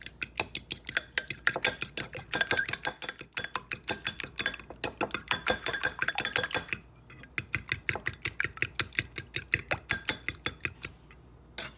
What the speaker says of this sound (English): now we're going to go ahead and beat our eggs